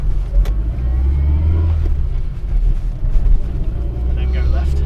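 Interior engine drone of an Austin Allegro 1100 driving along, a steady low rumble with slight changes in pitch, while people talk inside the car.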